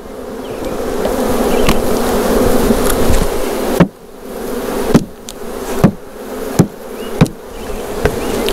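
Honey bees in a package buzz loudly and steadily on a warm evening, then several sharp thumps break in as the package is shaken, each followed by a swelling surge of agitated buzzing.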